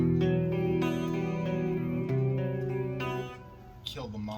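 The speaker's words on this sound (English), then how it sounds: "Yeah, reverb pedal." A guitar played through a reverb pedal rings out in sustained chords with a washy, echoing tail, steady and fairly loud, fading near the end into a brief pluck.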